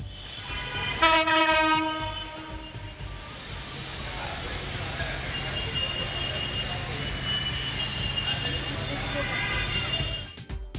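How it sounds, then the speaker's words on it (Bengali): Train pulling into a platform at Khulna railway station, a loud tonal horn blast near the start, then the continuous heavy rumble and clatter of the cars rolling in, filling the whole stretch. "তো যে ট্রেনটা এইমাত্র প্ল্যাটফর্মে ঢুকলো, সেই ট্রেনটার সাউন্ড এবার আপনি শুনতে পাবেন।"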